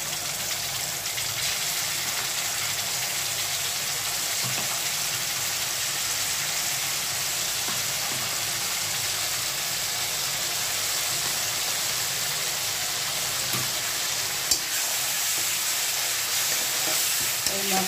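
A prepared spice paste hisses and sizzles continuously in a hot pan alongside fried potatoes, a loud, even, close frying noise with faint occasional stirring, no voices.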